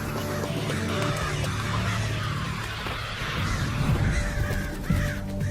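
Crows caw loudly and repeatedly in an agitated chorus, harsh calls overlapping continuously outdoors on a campus, alarmed at a dangerous face even when disguised with a hat.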